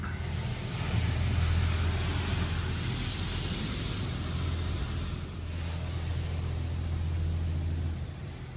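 A Tesla Model 3 gets the spot-free rinse in an automatic car wash: a continuous rushing spray over a low mechanical rumble, steady for several seconds before easing off, with no voices.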